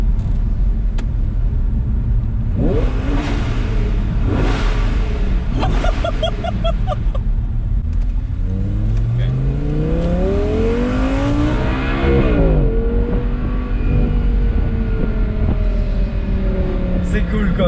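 An Audi R8 V10 Spyder engine roars and revs up and down nearby with the top down, rising and falling in pitch over steady road and wind rumble.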